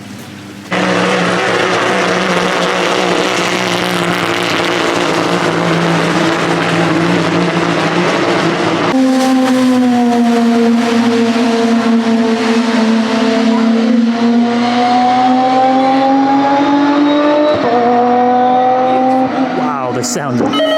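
An Aston Martin Vulcan AMR Pro race car engine drones loudly and continuously on a rainy Fuji Speedway track, its pitch rising and falling through gear changes, close by with faint voices underneath.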